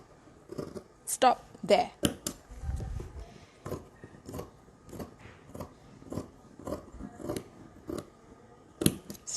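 Scissors snip across a t-shirt being cut into strips for weaving, a series of close, crisp cuts at an irregular pace with someone talking briefly over them.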